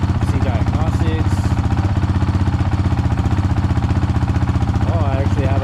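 A Honda CRF450RL motorcycle engine idles at around 1800 to 1900 RPM, producing a loud, fast, even thumping pulse close to the microphone, with someone talking over it.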